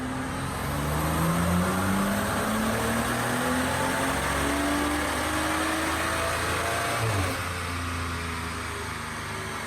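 A BMW M235i, tuned to stage 2+ with an upgraded intercooler, runs a dyno pull. The loud engine drones steadily as its pitch climbs for about ten seconds, then eases off.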